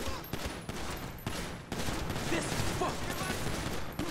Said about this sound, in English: Okay, we're shooting these fools.